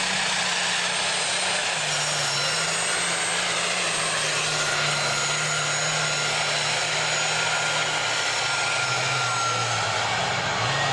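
A loud, high-revving pulling tractor engine with three turbochargers roars continuously at an NTPA tractor pull, with a rising turbo whine layered on top, steady and close for the whole stretch.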